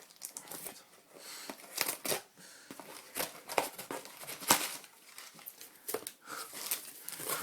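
Newspaper packing crumples and crinkles in repeated close, uneven bursts as a parcel shipped from Arles is unboxed, paper rustling and tearing over several seconds with no talk.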